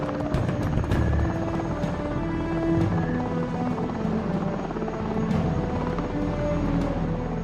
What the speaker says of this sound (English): The helicopter heads out to scan the minefield.